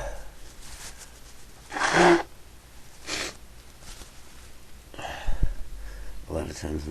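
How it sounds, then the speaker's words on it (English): A single sharp sneeze bursts out about two seconds in, followed by smaller breathy sniffs and snorts from the same person at close range, with quiet background noise between them. "a lot of times when I turn off the tape, I keep sneezing"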